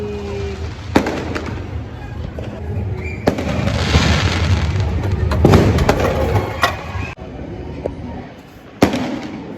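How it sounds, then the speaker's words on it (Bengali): New Year fireworks bursting outdoors, several sharp cracks and booms scattered among a crackling wash, some close and loud, with people talking in the background. "এখান থেকে সব বাজি দেখা যাচ্ছে, কি সুন্দর বাজি ফাটছে।"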